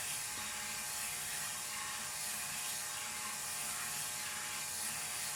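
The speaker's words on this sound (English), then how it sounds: "You can see now why the speed of the drill is critical. This is actually pretty slow." A steady, high-pitched mechanical whir of a power drill spinning a cylinder hone, grinding continuously and fairly loud throughout, with no voices.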